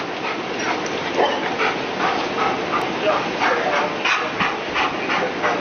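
A dog barks and whimpers, giving a string of yips and whines over a steady background of voices and noise.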